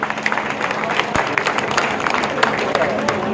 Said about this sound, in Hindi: जोरदार तालियां हाथ उठाकर उनके अभिनंदन करें